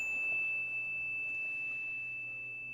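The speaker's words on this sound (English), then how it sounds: "I call you in with the clear sound of the bell." A clear bell rings out once, a single pure sustained tone that fades slowly over a quiet background, with no other sounds.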